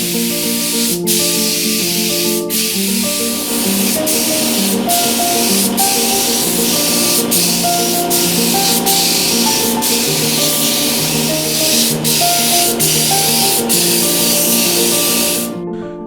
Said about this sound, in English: I've prepped the timber up, so I'm just going to spray some lacquer on it.